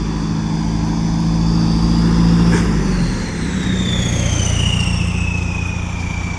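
Morning road traffic on a busy Thai road: engines idle and rumble nearby, one vehicle's tone shifts partway through, and whining tones glide overhead as other traffic moves past.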